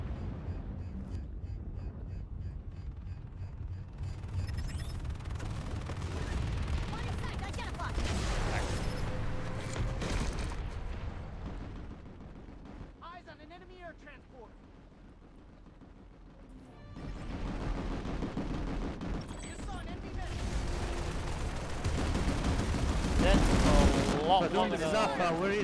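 Gunfire and explosions in a military video game, bursts of shooting and heavy impacts coming and going, with a quieter lull in the middle and a louder barrage toward the end, radio-style voices talking throughout.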